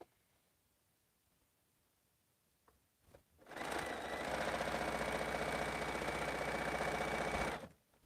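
A sewing machine stitches quilt pieces in one steady, loud run of about four seconds, starting after a few faint handling clicks and stopping abruptly, with no voices.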